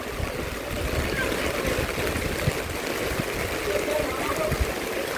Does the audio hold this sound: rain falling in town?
yes